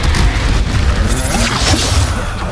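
Confringo blasting spell in Hogwarts Legacy, heard as a loud, dense, continuous booming blast with a roaring low rumble throughout, close and overwhelming.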